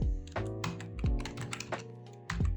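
Code typed quickly on a computer keyboard, close and clear, with irregular bursts of sharp key clicks and heavier thumps, and no talking.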